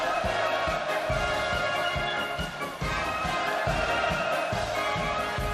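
A large crowd cheers at the completion ceremony of the Kangdong greenhouse farm in North Korea. A sustained, dense roar of many voices runs throughout, with steady rhythmic pulses underneath.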